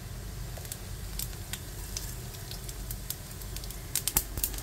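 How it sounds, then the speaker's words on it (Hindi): Cumin seeds sizzle and crackle in hot mustard oil in a frying pan, a continuous close hiss with scattered pops that sharpen toward the end. "तो तेल गर्म हो चुका है, इसमें हम डाल देंगे जीरा।"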